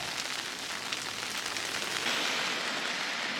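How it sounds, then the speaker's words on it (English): Steady rain falls in a continuous broadband hiss that stays even throughout, with no voices. "it's supposed to rain all day today"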